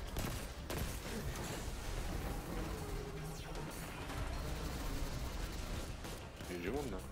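Gunfire in Destiny 2 aimed into a train, rapid shots and clanging impacts running steadily under game sounds and someone speaking.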